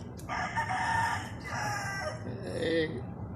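A fighting rooster crows loudly nearby in a long drawn-out call, followed by softer clucking, over a low background hum.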